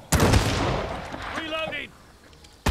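Gunfire in the WWII shooter Partisans 1941: a heavy burst of shots echoes and decays, with a brief voice in the middle and another sharp shot right at the end.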